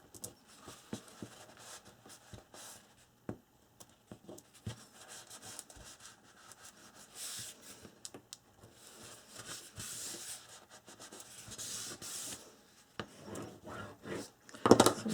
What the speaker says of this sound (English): And burnish really good.